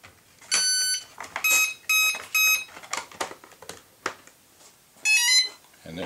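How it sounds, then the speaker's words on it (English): The electronic speed controller of an RC Sport Cub plane chirps a series of short, high-pitched tonal arming beeps in separate bursts, with soft handling noise in between and a final beep sequence near the end. "there goes the ESC saying we're ready"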